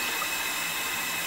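Hot water from a tap splashes into a shaving scuttle, a steady hissing rush heard alone at moderate loudness.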